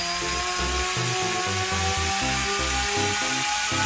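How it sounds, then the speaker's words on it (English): An electric motor on a 3D-printed UAV spinning a propeller on a thrust test stand, giving a loud, continuous high whine with a pulsing, stepped lower hum throughout, close up and with no talking. "We tested a more capable motor with the same propeller and measured its thrust."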